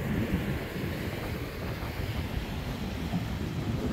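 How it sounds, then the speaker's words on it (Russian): Ocean surf rolls onto a Cape Verde beach as a continuous, fairly soft wash of breaking waves, mixed with wind buffeting the microphone and with no voices. "Ох, какие волны."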